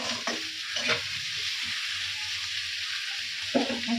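Potatoes frying in a pan give a steady, close hiss of sizzling oil, broken by a few soft stirring scrapes and knocks.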